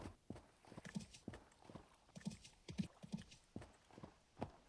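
Elk hooves plod through rough terrain in a survival video game, a steady clip-clop of separate soft thuds at a walking pace, fairly close.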